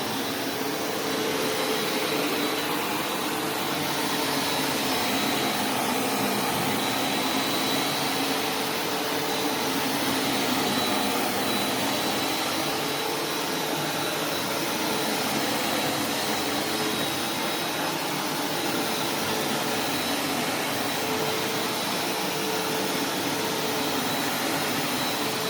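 A vacuum cleaner runs on carpet, a steady loud whirring motor hiss with a faint shifting texture as it is pushed, continuous throughout and alone without speech.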